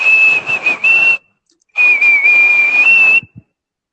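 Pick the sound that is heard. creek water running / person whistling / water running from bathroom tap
person whistling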